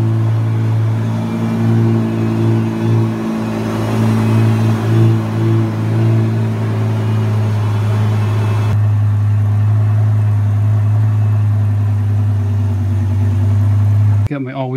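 Lamborghini engine, due for a twin-turbo conversion, settling into a loud, steady low idle while warming up, with a slight rise and fall in revs early on and a voice talking over it.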